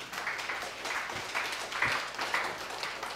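A church congregation claps together, giving a steady, moderately loud wash of applause that holds for a few seconds with no talk over it.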